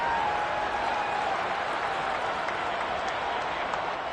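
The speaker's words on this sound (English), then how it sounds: "the crowd getting into it as we come up on a big 3rd down." A stadium crowd in a Madden football video game roars in a dense, steady wall of cheering and applause that stays loud and unbroken throughout.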